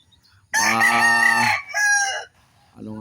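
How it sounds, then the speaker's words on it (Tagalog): Backyard chickens raised in a pen, with a rooster crowing loudly and close by in one long call, followed by a shorter second phrase and the start of another. "Malalaki na po yung ating mga alagang manok."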